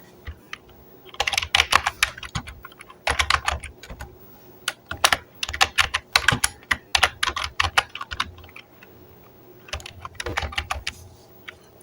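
Typing on a computer keyboard, entering a company name: bursts of close, crisp key clicks separated by short pauses, with a low background hum and no talking.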